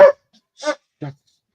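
A dog gives three short barks or yips, evenly spaced and close by, each bark brief and sharp with silence in between.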